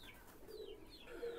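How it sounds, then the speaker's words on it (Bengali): Teddy pigeons, a new adult pair, give soft, low cooing in two short bursts, faint and close over quiet room noise. "এই যে দুটো টেডি কবুতর, নিউ অ্যাডাল্ট টেডি কবুতর,"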